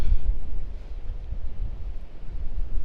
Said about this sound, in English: It's no gale, as they told in the radio. It's just windy.